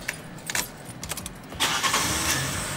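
A car engine cranks and catches after some quiet rattling, then revs loudly with a fat, throaty exhaust note that holds steady near the microphone.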